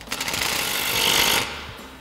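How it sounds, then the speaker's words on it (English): An impact wrench with a 15 mm socket tightens a nut during a 1994-2004 Mustang coil-over suspension install, giving one close, loud burst of rapid hammering that stops abruptly with a short tail. "now we'll take our 15 mil socket on our impact and tighten this down"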